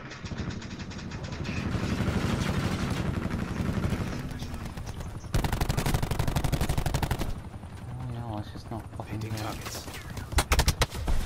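Gunfire in the video game Call of Duty Black Ops 4 beta rattles in bursts of rapid automatic shots, loud and close, with engine noise and a few sharp single cracks near the end.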